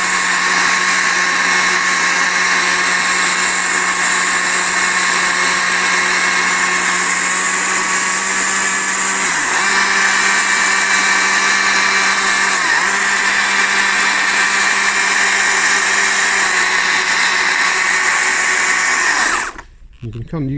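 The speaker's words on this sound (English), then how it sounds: "just gently draw the tip of the saw along the line you're trying to create." A chainsaw carving feather detail into a wooden double tawny owl sculpture holds a steady, high-pitched whining buzz at close range for about twenty seconds, with slight dips in pitch as the tip is drawn along the wood, then it cuts off abruptly.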